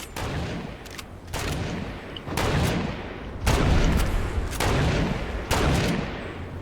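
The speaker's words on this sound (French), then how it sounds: "il me tire dessus" Gunfire in the video game Fortnite, loud repeated blasts arriving in about six evenly spaced bursts against a steady, noisy background, up close, with no talking.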